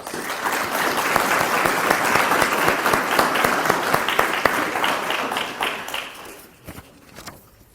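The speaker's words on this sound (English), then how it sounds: "Let's give those folks a round of applause." Applause for firefighters at a fire department awards ceremony, a sustained crowd clapping filling a hall for about six seconds, then trailing off into a few scattered claps.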